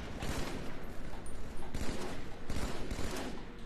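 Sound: gunshots in a video game

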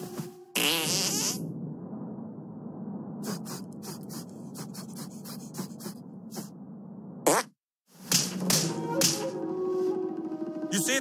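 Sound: fart attack called the Sneaky Squeaker, South Park Stick of Truth video game

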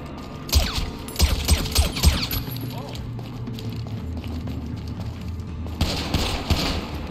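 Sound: gunfire in the video game GTA 5

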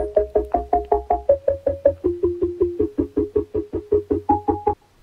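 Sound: synth step sample from a beat

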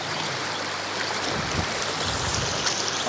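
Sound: river water flowing

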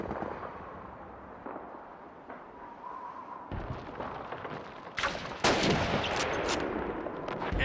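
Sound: gunshots in a video game

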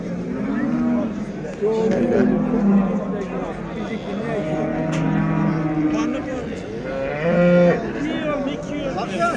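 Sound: cows mooing at livestock market

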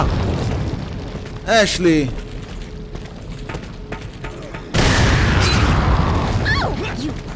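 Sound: grenade explosion in the video game Resident Evil 4

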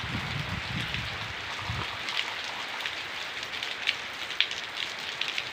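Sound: rain falling

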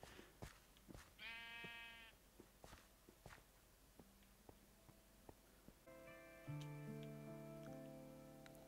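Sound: sheep bleating in Minecraft video game

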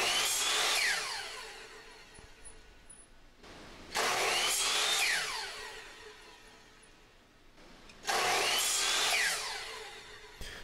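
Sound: power saw cutting wood pieces

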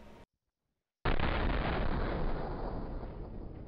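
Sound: gunfire in Trouble in Terrorist Town video game

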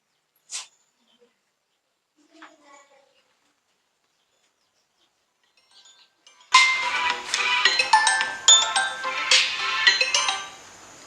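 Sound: phone ringing

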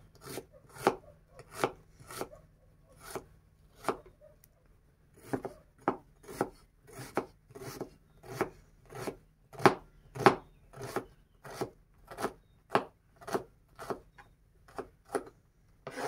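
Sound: chopping onions with a knife

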